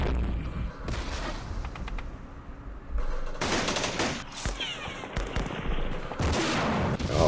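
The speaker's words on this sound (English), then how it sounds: "Let's do some firing at that heavy mortar over there." Gunfire aimed at a heavy mortar in a Vietnam war strategy game, set in the Battle of Hue, comes in several loud bursts of rapid automatic shots and booms separated by quieter stretches of distant crackle.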